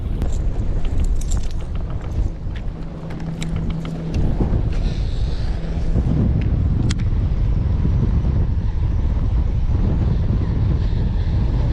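Steady roar of strong wind buffeting the microphone while bass fishing on the California Delta, loud and continuous throughout, with rumbling gusts and no voices.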